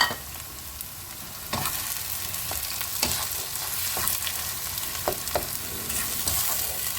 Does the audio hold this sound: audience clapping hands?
no